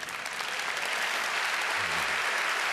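Sustained, even applause from a large audience at a talk at the 32C3 congress, filling the hall at a constant level.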